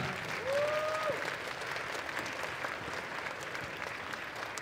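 Sustained applause from an audience at a cosplay contest at the Japaneuch 2023 convention, fairly loud and even, with a brief rising tonal sound near the start.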